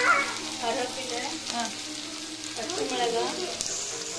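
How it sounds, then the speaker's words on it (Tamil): Curry leaves, green chilli, drumstick leaves and onion sauté in hot oil, a steady close sizzle with intermittent scraping stirs throughout, no talking. "கருவேப்பிலை, பச்சை மிளகா, முருங்கைக்கீரை, வெங்காயம் எல்லாம் வதக்கிக்கலாம்"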